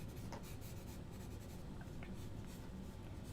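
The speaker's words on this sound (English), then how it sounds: "So yeah, some old school pencil on my marker here." A pencil sketches over marker on paper during industrial design sketching, making a faint, continuous scratchy rubbing with no voices.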